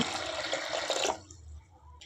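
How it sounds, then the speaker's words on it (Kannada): Water pours steadily into a small pressure cooker holding cowpeas and green gram, a close splashing gush for about a second before it stops, leaving quiet kitchen background. "ಅದು ಮುಣಗಷ್ಟು ನೀರು ಹಾಕ್ಕೊಳೋಣ"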